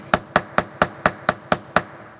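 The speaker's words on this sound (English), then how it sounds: "few more whacks with the hammer" Eight sharp hammer whacks land at an even, quick rhythm on a metal eyelet being flared in jewelry making, loud and close with brief ringing decay, no talking.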